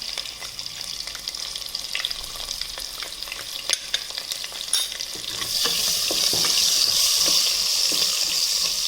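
Curry leaves and chopped onion hit hot oil for a stuffed brinjal curry, starting with stirring clatter over a low fry, then swelling into a loud, steady, close sizzle in the second half.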